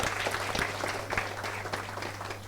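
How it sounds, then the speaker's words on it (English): Audience at a tech talk applauds the CTO of Zerodha, a short, fairly quiet burst of room clapping over a steady low hum, with no voices. "Huge round of applause, please."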